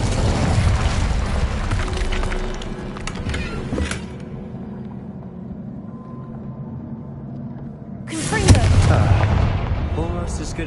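Casting the Incendio fire spell in the Hogwarts Legacy video game gives loud booming, roaring bursts of flame. A heavy rush opens, fades to a low rumble, then another strong blast flares up near the end.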